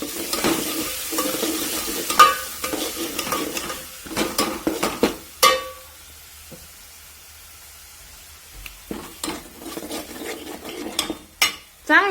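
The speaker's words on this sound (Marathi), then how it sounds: "तो मसाला पण त्याच्यामध्ये परतून घ्यायचा थोडासा." Ground black masala sautés in a pan while a spoon scrapes and stirs through it, giving a close, irregular series of scraping strokes over a soft sizzle, with quieter pauses between bursts of stirring.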